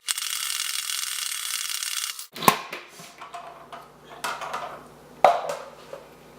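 Washed, torn kale spins dry in a salad spinner: about two seconds of steady whirring, then a stretch of ratcheting clicks and sharper plastic clunks, close and moderately loud.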